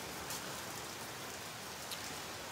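Steady rain falls outside, a dense, even hiss of drops striking surfaces close by, continuous and unbroken with no voices.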